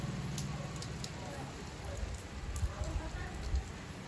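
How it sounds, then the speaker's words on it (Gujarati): Steady rain falls at a rural home, a soft continuous patter on surfaces with occasional louder drops, heard faintly in the background. "અત્યારે વરસાદ તો ઘણો બધો આવે છે"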